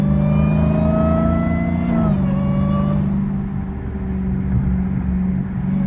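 Supercharged catless Dodge Hellcat revving hard, a loud close engine note with supercharger whine climbing then dropping off, settling into a lower rumble after the rev with no talking.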